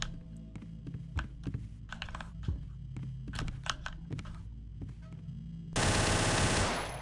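Rapid Glock pistol fire from the Afraid of Monsters video game, a fast run of close, sharp shots with clicks between bursts, ending in a dense, loud stretch of noise.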